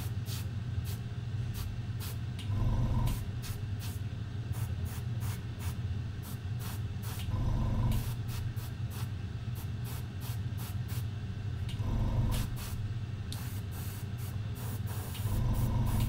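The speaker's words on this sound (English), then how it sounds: "So this is pretty much the next stage done, airbrushing." Short bursts of airbrush paint spray hiss repeatedly, each a few seconds long, with quiet gaps between. Faint low hum and light clicks sit underneath.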